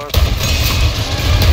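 A grenade launcher firing in a zombie video game, a loud booming blast followed by dense, sustained rumbling explosions with no pause.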